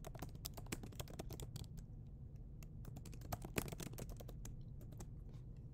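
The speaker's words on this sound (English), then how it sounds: "Then I will go ahead and type my dialogue." Rapid keystrokes on a computer keyboard patter steadily for nearly six seconds, a dense run of light, close clicks at a quiet level with a low background hum and no voices.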